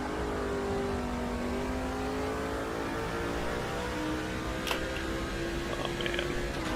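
Race car engines from NASCAR 06 drone steadily at high pitch, several cars' tones rising and shifting together in a continuous loud roar with no talk.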